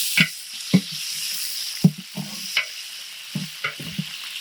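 Oil and onions fry in a pan for veg biryani, a low steady sizzle broken by repeated knocks and scrapes of a spoon stirring, close and alone.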